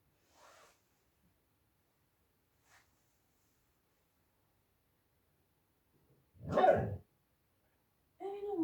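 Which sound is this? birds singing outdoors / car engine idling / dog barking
dog barking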